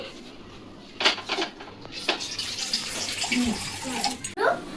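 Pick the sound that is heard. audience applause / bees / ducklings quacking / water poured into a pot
water poured into a pot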